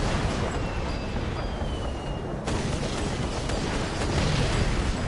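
Explosions from a blimp bombing run in the Assassin's Creed Syndicate video game form a dense, continuous roar of rumbling blasts with a sharper burst midway, loud and close, and no voices.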